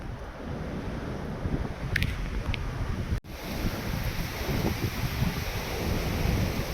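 Gusty wind buffets the microphone on a New Year's Eve walk in Grenoside, giving a continuous low rumble with brief surges and a momentary dropout partway through.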